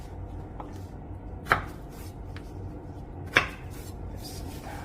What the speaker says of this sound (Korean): 이것도 당근 크기로 다 깍둑 썰기 해주시면 됩니다.